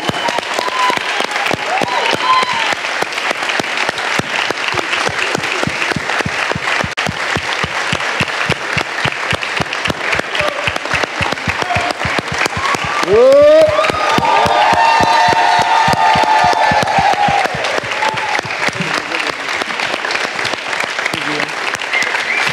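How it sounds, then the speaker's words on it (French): Sustained applause with cheering from a studio audience closes a live TV broadcast, dense and steady throughout, with an excited voice rising briefly over the clapping midway. "Et nous t'ai fini avec des applaudissements, quand on dit. On s'applaudit."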